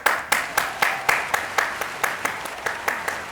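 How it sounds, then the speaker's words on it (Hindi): Judges on a television drama review show clap in a steady, evenly spaced series of about a dozen sharp claps, fairly close and alone. "नादिया ने स्पेशल 4 तालियां बजाई"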